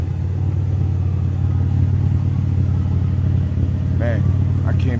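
A 2001 Buick Regal LS with its muffler broken off idles with a steady, loud, low rumble throughout, and brief voices are heard near the end.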